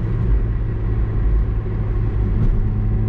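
Inside a 1992 Citroen ZX at full throttle on the highway, the engine and road noise make a loud, steady low drone and rumble that runs unbroken throughout.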